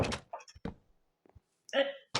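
In a crafting and building video game, a door is placed with a few short hollow thunks and knocks, one sharp hit standing out, between brief game sounds and a burst of chime-like tones.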